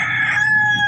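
A single drawn-out, strained call from a backyard chicken near a compost pile, loud and close, with a piercing sustained tone that fades toward the end.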